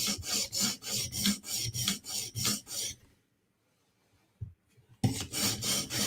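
Steel knife edge ground on sharpening stones at a low spot near the heel, a loud rhythmic rasping of repeated strokes, then a pause with a faint clink, then the strokes resume, no talk.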